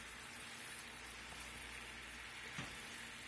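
Sauce for steak and chops simmering in a pan, a steady soft bubbling and sizzle that holds evenly throughout with no voices.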